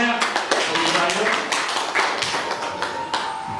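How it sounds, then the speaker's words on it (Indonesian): Applause at a teachers' gathering on positive school culture: a dense, continuous patter of many hands clapping for several seconds, with a few voices mixed in. "tepuk tangan semuanya"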